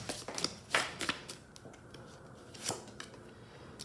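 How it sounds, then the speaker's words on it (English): Tea leaf oracle cards shuffled by hand during a tarot love reading, several quick papery riffles and slaps, fairly close and quiet, with no talking. "I'm going to shuffle some tea leaf oracle."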